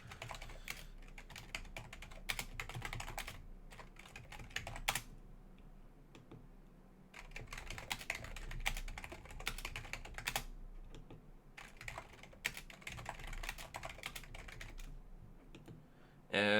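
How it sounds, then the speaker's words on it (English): Keys clatter steadily on a computer keyboard as a recovery phrase is typed, close and fairly quiet, in bursts separated by short pauses. "I'm just going to type it instead."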